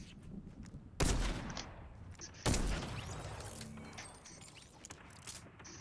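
An automatic shotgun firing at close range in Fortnite, two loud, sharp blasts about a second and a half apart, each trailing off into a decaying rumble.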